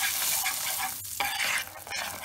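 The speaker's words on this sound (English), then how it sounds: "like nuts roasting on a nut brown butter" Hazelnuts roast in nut-brown butter in a pan, giving a steady, close, bright sizzle with a brief dip midway and a few soft stirring scrapes.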